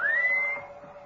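A person whistles a single rising note that holds steady for about half a second, then fades out, clear and close with no talk.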